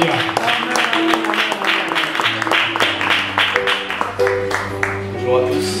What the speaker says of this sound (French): Encouragez le frère par les acclamations